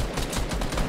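Rapid automatic gunfire in a Fortnite match, a dense stream of shots filling the whole second at steady volume with no talk over it.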